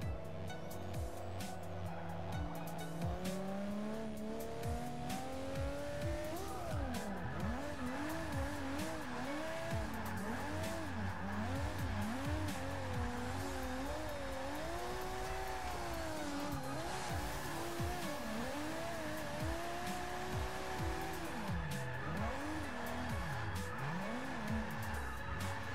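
Continuous engine roar from a Nissan 370Z in Forza 6, rising and falling with throttle and shifts, overlaid by sustained tire squeal and skidding through a string of corners, close and steady in level.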